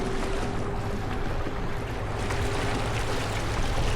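A steady low boat motor drones beneath a broad wash of water and wind noise on a canal in Bruges, Belgium, constant and fairly loud throughout.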